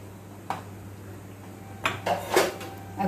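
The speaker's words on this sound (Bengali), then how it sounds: "একটু নাড়িয়ে চাড়িয়ে মিক্স করে নিচ্ছি।" Chicken thukpa being stirred and mixed in a pot, a few scattered metallic clinks and knocks of a utensil against the pot over a quiet room hum.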